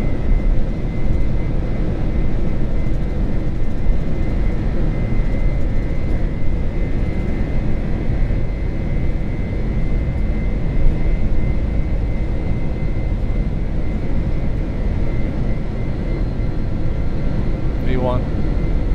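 A heavy Boeing 747-400F cargo jet on its takeoff roll out of Seoul Incheon, engines at takeoff thrust making a loud, steady, continuous roar heard from the flight deck, with brief crew callouts underneath.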